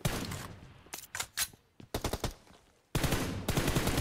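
Pistol shots in a video game team deathmatch, a run of sharp loud cracks at irregular intervals through the middle, between stretches of dense game noise.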